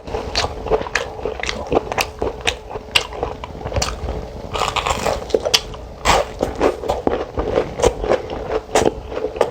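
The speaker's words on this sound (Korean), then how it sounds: "이번 튀김을 한번 먹어보겠습니다 먼저 오징어 튀김" Repeated crisp crunching bites of fried squid, loud and close, with irregular chewing crackles between bites.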